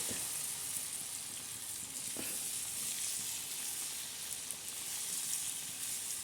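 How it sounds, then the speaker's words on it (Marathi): Malpua batter made from jaggery, wheat flour and rice flour fries in hot oil, a continuous even sizzle and hiss with one faint knock of a spoon midway. "चला मैत्रिणी आता आपण मालपोहे टाकायला सुरुवात करणार आहोत"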